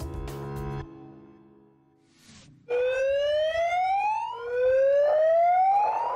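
Flood sirens wail in Russia near the Kazakhstan border during severe flooding, with loud rising tones sweeping upward in long repeated cycles after a short stretch of other sound and a quiet gap.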